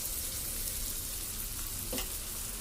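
Egg fried rice sizzles steadily in a pan with broadband frying hiss throughout and a brief stir or scrape near the end, with no voices.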